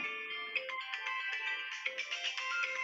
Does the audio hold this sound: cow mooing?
no